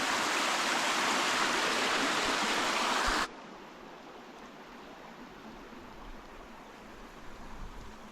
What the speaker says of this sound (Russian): Там еще родник течет